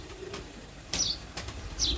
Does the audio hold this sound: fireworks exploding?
no